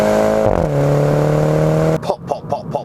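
A 2017 Mini John Cooper Works Convertible exhaust drones steadily, then breaks into a quick run of sharp pops and crackles close by.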